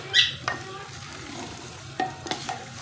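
A spoon stirs mixed vegetable aloo matar in a handi, giving a few distinct scraping knocks against the pot over a steady low hiss of cooking.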